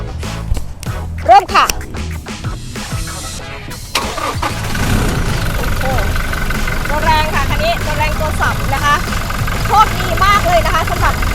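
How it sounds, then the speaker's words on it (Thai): A 2021 Smart Cab pickup truck, shown as a used car, starts with a short crank and catches, then settles into a steady idle while someone talks over the running engine. "เดี๋ยวเราฟังเสียงเครื่องยนต์กันค่ะ"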